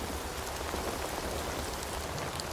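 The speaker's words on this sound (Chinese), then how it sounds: "如此大雨" Heavy rain pours down in a dense, constant hiss, loud and unbroken from start to finish.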